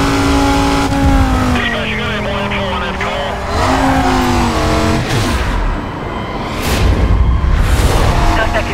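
Dodge Viper SRT-10 engine in the racing game Need for Speed Carbon, heard on the Steyne Aqueduct track, revving hard and shifting gears with tire squeal and skidding, loud and close, while a police radio dispatcher's voice talks over it.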